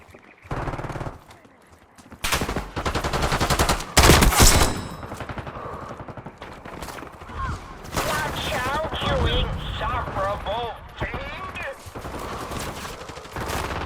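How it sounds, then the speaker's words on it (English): Bursts of automatic gunfire and scattered shots in a Call of Duty match, loud and dense through most of the stretch, with a sharp heavy blast near the middle and voices talking over the shooting. "I physically do not know where these people are shooting at me from."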